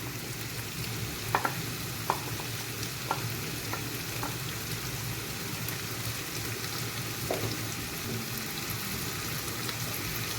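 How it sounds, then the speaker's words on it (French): Red peppers and coriander stirred in a frying pan, a soft steady sizzle with a few light utensil scrapes and clicks against the pan near the start, fairly quiet and without talk. "Et je mélange."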